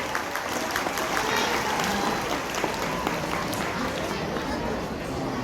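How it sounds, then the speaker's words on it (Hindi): Loud, steady applause from a crowd of schoolchildren welcoming teachers at a Kendriya Vidyalaya foundation day celebration in Ujjain, dense and continuous with chatter mixed in. "बच्चों जोरदार तालियों के साथ हमारे शिक्षकों का स्वागत अभिनंदन करें।"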